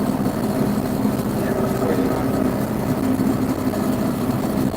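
A loud, steady tractor engine drones throughout in dusty field work, a constant low mechanical rumble with no pauses.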